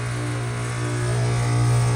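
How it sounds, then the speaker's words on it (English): An R22 air conditioner condenser unit with its compressor running while the condenser fan stays off, a steady low electrical hum with a strong drone and faint buzz, continuous and close, growing slightly louder toward the end. "The compressor is going, but the fan is not."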